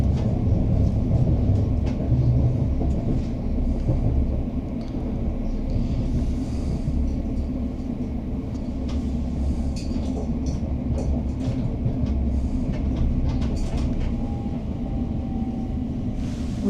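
A ScotRail train on the Gourock line near Gourock Central rumbles along the rails with a steady, heavy low roar and faint clicks of the wheels, continuous and close, with no voices.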